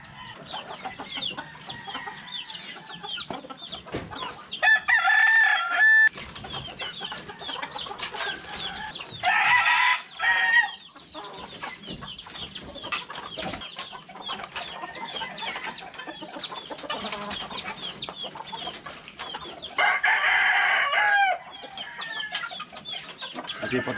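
Roosters kept on a gamefowl farm crow several times in loud, close bursts over constant clucking and scratching from the flock, the crows rising above the background every few seconds.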